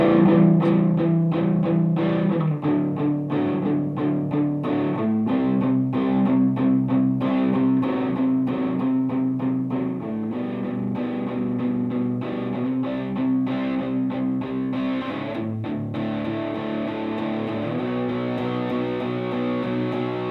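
Electric guitar with a distorted, effected tone strums a chord progression at a slow tempo, unhurried and steady, chords changing every few seconds, continuous and full.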